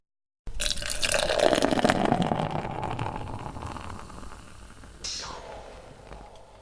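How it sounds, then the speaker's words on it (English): Rick Shaw's Coffee Stout pours into a glass, a close, fizzing, gurgling stream that starts abruptly and gradually softens, with a short splash near the end. "Let's get pouring."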